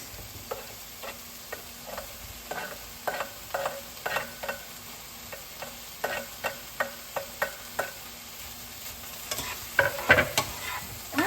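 Browned chicken frying in a pan with tomatoes and garlic, a soft steady sizzle broken by regular scraping stirs of a utensil, close and fairly quiet, with busier clattering toward the end.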